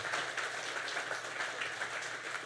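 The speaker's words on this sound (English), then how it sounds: "Another round of applause" An audience keeps clapping for a speaker after an inspirational talk, a continuous even wash of applause at a moderate distance, fairly quiet, with no voices over it.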